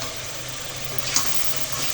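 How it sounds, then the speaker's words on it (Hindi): Dishes being washed under a running kitchen tap, a steady broadband hiss of flowing water, close and continuous, with one faint clink partway through. "अच्छी तरह बर्तनों को साफ़ करें, कुछ भी ना लगा रहने दें।"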